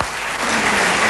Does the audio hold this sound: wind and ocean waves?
no